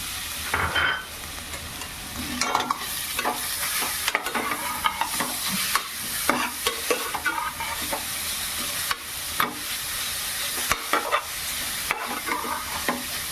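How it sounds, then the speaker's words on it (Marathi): Grated carrots sizzle and fry in hot ghee in a pan for a carrot kheer, a continuous crackle broken by repeated scraping stirs of a spoon. "हा गाजर तुपात टाकून घेतोय मी"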